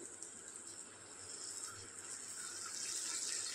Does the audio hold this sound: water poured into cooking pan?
yes